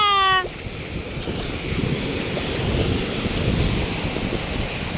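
Ocean waves breaking along the shore at Mousuni Island, a continuous loud wash of surf with wind buffeting the microphone, following a brief electronic tone at the very start.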